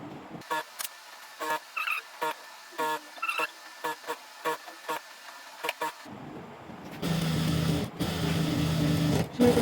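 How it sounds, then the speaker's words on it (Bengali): Sewing machine stitching a baby maxi dress, short rhythmic bursts of needle whirring separated by pauses, then a longer continuous hum of stitching near the end. "আমি চিকন করে সেলাই দিচ্ছি।"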